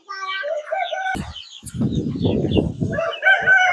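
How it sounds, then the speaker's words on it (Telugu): On a farmhouse farm, roosters crow loudly and nearby among chickens, chicks and hens, with clucks and a brief wing flap between the calls. "ఇక్కడ కూడా ఎక్కడ చూసినా మనకి కోడి పిల్లలు, కోడి పుంజులు, పెట్టలు అన్ని అవే ఉన్నాయి"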